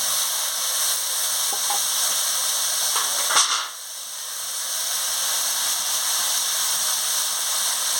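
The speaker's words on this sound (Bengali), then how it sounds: "এবার আমি গিমা শাকটা দিয়ে দিচ্ছি।" Gima greens hit a hot pan with a broad, loud sizzle and hiss, a brief clatter as they drop in, then steady frying continuing close by.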